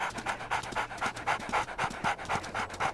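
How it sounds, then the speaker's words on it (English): Wolf panting in the video game WolfQuest, a steady rhythmic series of quick breathy pants, close and continuous, with no talking over it. "Just dog panting"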